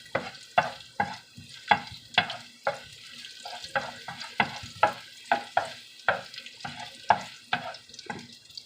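Pechay and beans being stir-fried in a pan until lightly browned, a soft sizzle under a steady rhythm of sharp scraping and tossing strokes, close and unaccompanied by voices.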